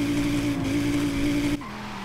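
An Audi RS3 sedan in the racing game Forza Horizon 5 revs while standing still, giving a loud, steady engine drone that drops off abruptly near the end.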